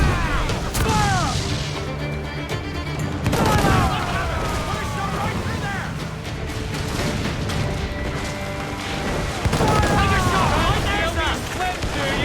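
Ship cannons boom in a naval battle in Assassin's Creed IV: Black Flag, with loud heavy blasts, crashing impacts and a chaotic din of combat, while crew voices shout over the fighting.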